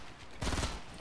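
Burst of gunfire in the Fortnite video game, a loud rapid volley that erupts abruptly after a quiet moment and rattles on to the end.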